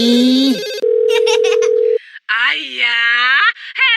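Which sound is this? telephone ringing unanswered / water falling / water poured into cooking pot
telephone ringing unanswered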